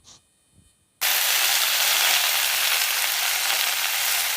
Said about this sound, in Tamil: நறுக்கிய பீர்க்கங்காய் தோல் அதையும் சேர்த்துக்கலாம்.